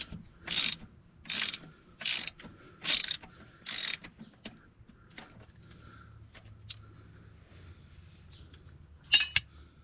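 Ratchet loosening the nut that holds the drawbar on an Allis-Chalmers G tractor, five loud rhythmic clicking strokes close by, then quiet mechanical handling and one final click.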